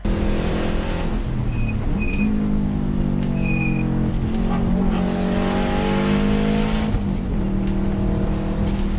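A 2007 Subaru WRX on a race track during a time attack track day, its engine loud and close with steady revving, rising and falling through gear changes, and brief tire squeals, with no talk.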